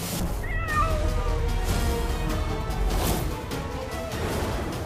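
A cat meows several times in a row, in a setting from the Aladdin TV series, with the calls rising and falling over loud, steady background noise and no speech.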